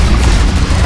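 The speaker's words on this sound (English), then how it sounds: "Stay clear of the blast." A loud, heavy blast from an explosion in the Arknights video game, a dense booming rumble that fills the short moment with no pause.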